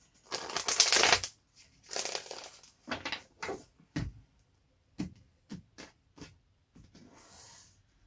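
Tarot cards being shuffled in a series of crisp riffles and short flicks, separated by brief pauses, close and fairly quiet.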